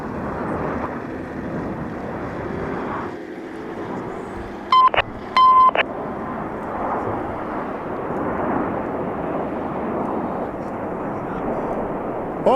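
Red Arrows jet aircraft flying a display at the Festival of Speed, a loud, continuous roar of jet engines sweeping across the whole stretch, with brief beeping tones partway through.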